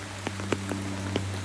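Summer rain in a forest near Kristiansand, Norway, with a few distinct drops tapping close to the microphone at irregular intervals over a soft steady background hum.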